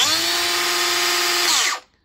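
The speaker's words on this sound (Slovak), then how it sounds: "Je tu jeden spínač, s ktorým sa uhlová brúska zapína." A Bosch GWX 18V-10 SC cordless angle grinder runs at a steady high whine for nearly two seconds, loud and close, then is switched off and its pitch drops quickly to silence.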